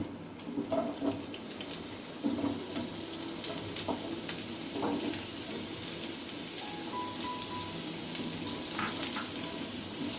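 A soft, continuous sizzle of chopped onions in hot oil with occasional light clinks and stirring scrapes, fairly quiet throughout.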